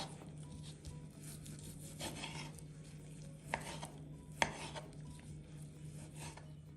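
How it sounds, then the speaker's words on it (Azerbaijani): A knife cuts chicken breast into small pieces on a board, giving a few sharp, distinct chops over a steady scraping, rubbing background, close up with no talking. "Toyuğun sinəsini mən xırda-xırda doğradım."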